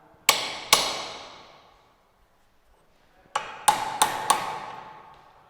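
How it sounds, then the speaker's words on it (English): Hammer blows on a flat cold chisel chipping a layer off a metal workpiece in a fitting shop: two sharp ringing strikes, a pause, then four more in quick succession, close and clear with no talk. "then you start chipping with the help of flat coal chisel"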